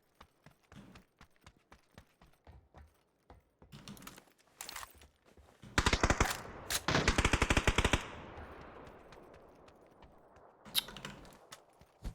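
Automatic rifle fire in the battle game PUBG, starting as scattered single shots and bursts, then a loud sustained spray of rapid rounds that cuts off, followed by fading echo and a few more shots.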